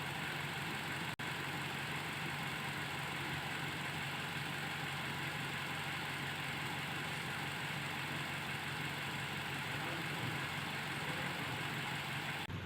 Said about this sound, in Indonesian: Oke, tune up selesai. Well, suara mesinnya sudah halus sekali